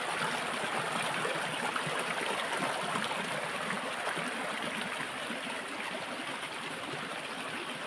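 Clear mountain stream water runs over rocks in a steady, broad rush, close and continuous without pauses, with no talking.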